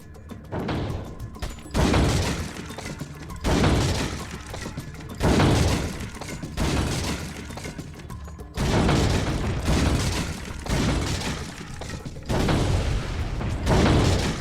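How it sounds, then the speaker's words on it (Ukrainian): Machine gun fire in the video game Resident Evil 4 comes in loud rapid-fire bursts of about two seconds each, around seven in a row separated by short pauses, with crashing, shattering impacts and no speech. "давайте з кулемета будемо стріляти"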